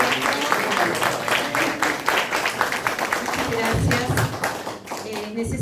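Applause and scattered clapping from an audience honoring a professor and a museum director at a ceremony, with a voice talking over the dense, fairly loud clapping throughout.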